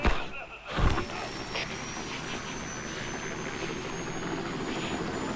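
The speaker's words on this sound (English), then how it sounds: "Alright, definite helicopter noises." A helicopter in the stealth game Metal Gear Solid V: Ground Zeroes gives off a steady, distant rotor drone with broadband roar. It follows a brief thump at the start and continues without talk.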